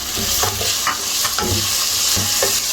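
Onion and small pieces of boneless chicken sauté in a pan with a loud, continuous sizzle, and rhythmic stirring scrapes come every half second or so, close up and without speech.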